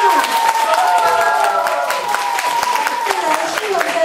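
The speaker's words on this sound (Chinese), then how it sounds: "掌声加尖叫。" Audience at a 2017 Indian dance performance event applauds and screams: steady clapping with high shrieks and cheers riding over it, loud and continuous throughout.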